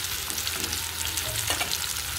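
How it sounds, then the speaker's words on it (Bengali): Sliced kakrol (spiny gourd) sizzles steadily in hot oil in a pan as the pieces are turned, with a continuous close frying crackle and no talking. "আমি এবারে কাঁকরোলগুলোকে একটু উল্টে উল্টে দিচ্ছি"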